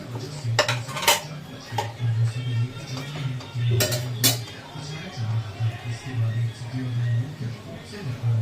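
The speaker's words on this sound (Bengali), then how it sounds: "দেখো কড়াই গ্যাসে বসিয়ে দিয়েছি এবার এর মধ্যে তেল দেবো" A wok sits on a gas stove while metal cooking utensils clink against it in a few sharp, separate strikes over a low steady hum, and a voice talks throughout.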